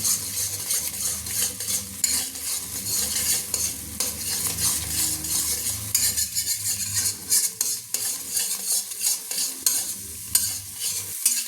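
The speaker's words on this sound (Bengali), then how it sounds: "দিয়ে দিলাম 3টে ডিম। এইভাবে ডিমের ভুজিয়া আমি করে নিচ্ছি," Three eggs scramble in a frying pan, a utensil stirring and scraping steadily through a continuous close sizzle, with no voices.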